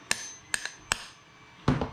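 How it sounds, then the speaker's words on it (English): A hammer taps a metal drift punch to seat a bearing in a 3D-printed RC outboard motor assembly: a few sharp, ringing metallic clinks, some doubled, close and spaced irregularly, with a duller thud at the end. "I can put my drift punch on down in there, and then I can give it a couple of love taps with the hammer"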